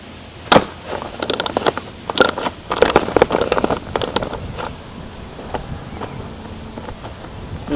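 A ratcheting wrench loosens a 10mm bolt on a dirt bike passenger peg, giving close, irregular bursts of sharp clicking and metallic rattles that thin out into sparse clicks toward the end.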